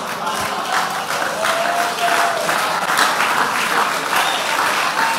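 A church congregation applauding during a sermon, dense and sustained clapping from many hands, fairly loud and close, with faint cheering mixed in.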